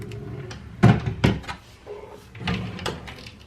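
A drawer in a beauty studio is pulled open, giving a couple of sharp knocks followed by lighter rattling and sliding, close by with no talking.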